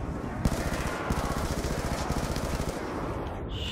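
Rapid automatic gunfire from a weapon in Call of Duty Black Ops II Zombies, a continuous rattling burst of closely spaced shots lasting several seconds, loud and steady with no talk over it.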